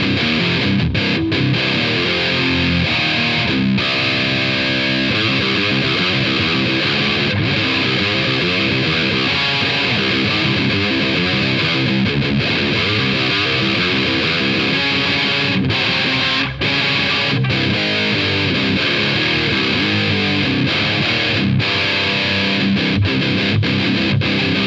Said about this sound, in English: Let's add some gain and see what gain gives us.